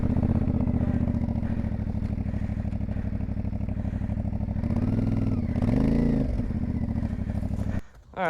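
An old adventure motorcycle, just pulled from a pile of logs in the Smoky Mountains, idles steadily with a rough, clattering engine note, swelling briefly near the end before the sound cuts off abruptly.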